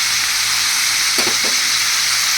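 Chopped ginger hits a hot pan with a steady, close sizzle of frying oil and a few brief stir clatters, no voices.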